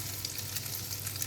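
Sweet bread browning in a frying pan, a steady close sizzle of hot oil crackling continuously, with no voices.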